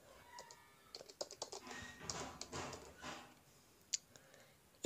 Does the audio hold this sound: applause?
no